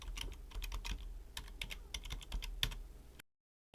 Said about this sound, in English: I'm going to type in my actual password right now